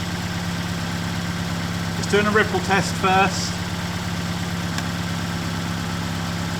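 A car engine idles steadily during a battery charging test with a Topdon BT200 tester, a constant low hum with a brief spoken phrase over it.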